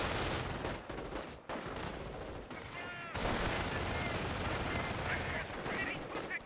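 Rifle and machine-gun fire crackle through a Company of Heroes battle, with dense bursts, rattling volleys and occasional heavier blasts beneath a commentator's voice.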